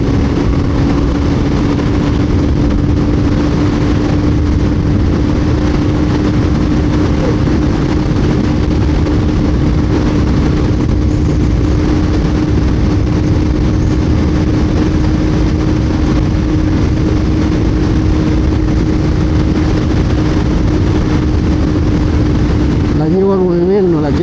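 A KTM Duke 200 motorcycle engine held at high revs in sixth gear, a steady loud drone that stays constant throughout with a slight wavering shift near the end.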